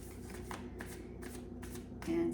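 Tarot deck being shuffled by hand, a steady run of soft riffling card flicks repeating in bursts, close and moderately quiet with no talking.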